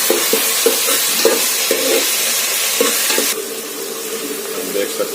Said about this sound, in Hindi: जब तक ये कलर ब्राउन नहीं होता आपको मिक्स करना है, तो अच्छे से आपको मिक्स करते रहना है।